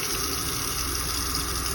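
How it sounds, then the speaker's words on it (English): Steady rushing water pours from faucets in a camper being de-winterized, fed by the pump from the fresh water tank, a continuous close hiss and gush with a low pump hum throughout and no talking. "So I'm just going to run the faucets again."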